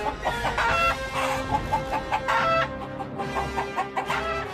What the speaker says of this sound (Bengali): তিনটে কালো মুরগি বেরিয়ে ছুটল ঘরের ভেতর।